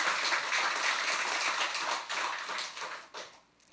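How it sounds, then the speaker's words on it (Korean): Church congregation applauding during Sunday worship, a dense roomful of clapping that holds steady and then tapers off toward the end, with no talk over it. "우리 경의 박수 하겠습니다"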